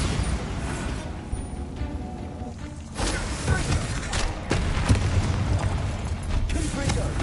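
Bombarda spell blasts in the game Hogwarts Legacy, a run of heavy booming thuds and rumbling bursts that swell louder midway and keep pounding to the end, with no voices over them.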